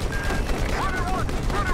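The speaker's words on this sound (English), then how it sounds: "Just a couple shots on the LAVs to put them down." Dense, continuous gunfire from the Battlefield 4 campaign's Singapore mission, fired at LAV armored vehicles. Loud overlapping shots form a steady fusillade over heavy battlefield rumble throughout.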